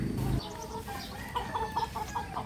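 Roosters on a backyard poultry farm cluck and call repeatedly up close in short, broken bursts over a low outdoor background.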